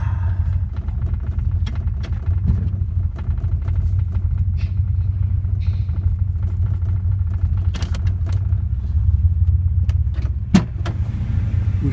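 1989 Chevrolet S10 Tahoe engine idling after a tune-up with new spark plugs and spark plug wires, a loud, steady low rumble heard up close with a few light clicks and knocks over it.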